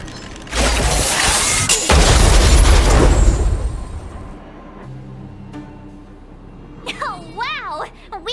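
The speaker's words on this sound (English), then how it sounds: "We wiped them all out in a single explosion!" An automaton stealth bomb goes off in Honkai: Star Rail, a heavy booming blast with mechanical crunching and debris that rolls on for several seconds, then fades into quiet electronic whirring tones.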